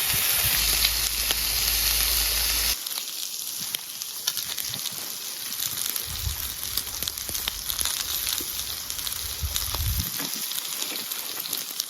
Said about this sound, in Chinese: 这油脂，这瘦肉，这种锅这么一煎